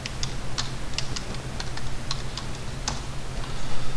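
Quick, crisp keystrokes tap out a short command on a computer keyboard in CAD drafting software, a run of close, irregular clicks with a brief pause partway through.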